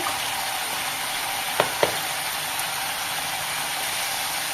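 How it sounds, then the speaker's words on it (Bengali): Ground spice masala fries in a hot pan while cooking ghugni, a steady bright sizzle throughout with two quick clinks of a spoon near the middle; no talking. "খুব ভালোভাবে আমাকে মশলাটাকে ভেজে নিতে হবে"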